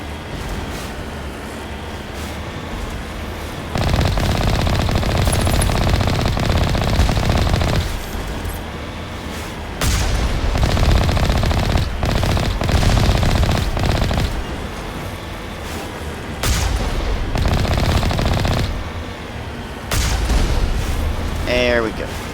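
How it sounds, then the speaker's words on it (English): Gunfire and explosions in a Mass Effect style video game, Legend of Shepard: Alliance, arrive in loud dense bursts separated by quieter gaps, with a voice talking over parts of the action. "Time to do some more explosions."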